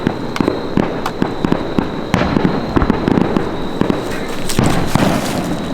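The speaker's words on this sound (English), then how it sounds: "The fireworks woke the spirits" Fireworks burst in a rapid, uneven string of sharp bangs and crackling pops, fairly close and loud, with no talking over them.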